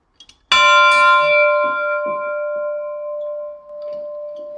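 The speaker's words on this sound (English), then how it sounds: "Yep, that bell works. Yes. That's a Dobson bell." A Dobson church bell is struck once after a couple of light taps, ringing out loud and clear with a long, steady, shimmering hum that fades slowly, with faint knocks beneath and no talk.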